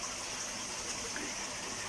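RO water is poured into a turtle tank to top it up, making a steady, close gushing and splashing that continues without a break and with no talk.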